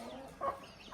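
Chickens in a village yard cluck briefly during feeding, one short louder burst in the middle over steady low background noise.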